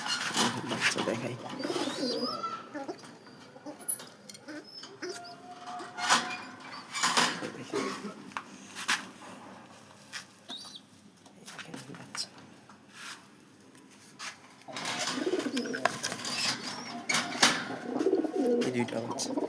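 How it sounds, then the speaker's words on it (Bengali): Pigeons in a loft, including a hen with two chicks nearby, coo softly and intermittently, with scattered rustling and light clatter around them and occasional voices in the background. "এটা একটা মেয়ে কবুতর"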